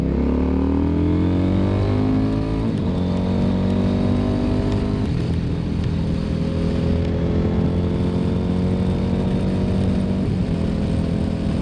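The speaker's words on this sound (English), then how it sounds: "the wind noise is so intense right now that I can't hear myself talk" Riding a CFMoto Ibex 800S motorcycle fitted with a windscreen, heavy steady wind roar blends with the engine's droning note as it shifts through gears, loud and continuous, no talking.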